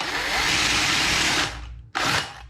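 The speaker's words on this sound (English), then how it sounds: "start drilling here in the center of the rivet until it gets loose enough" A power drill whines steadily at high speed for over a second while drilling out the center of a rivet on a Foxbody door handle, then stops briefly before a second short, loud burst of drilling.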